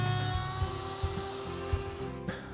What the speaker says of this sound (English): The easiest way to make this cut is on the router table.